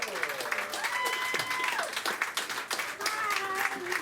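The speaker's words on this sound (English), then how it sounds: "Can you get a round of applause for Oren Soloway" A comedy audience applauds and cheers as a comedian is brought to the stage, clapping running steadily underneath while a voice talks and calls out over it.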